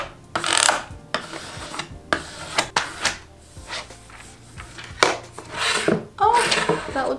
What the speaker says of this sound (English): all you have to do is just to burnish it on, and I'm going in a radial pattern here